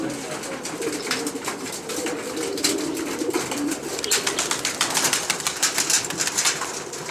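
A flock of pigeons coos softly after landing together, with scattered wing flutters and chirps in a steady, close cluster of bird sounds.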